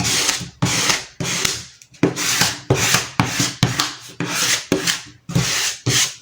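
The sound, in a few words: noise of upholstering work, rubbing and rasping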